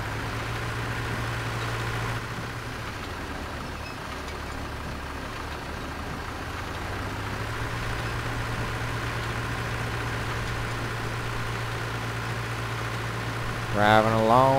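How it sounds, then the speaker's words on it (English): Steady low drone of a tractor engine driving along in Farming Simulator, holding a constant idling rumble throughout with a brief shift partway through and a short burst of higher sound near the end. "Driving along on my tractor"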